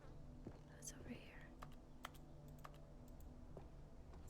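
Soft, scattered keyboard-like typing clicks from The Stanley Parable Ultra Deluxe tap irregularly over a quiet background hum, with faint voice-like sounds drifting in.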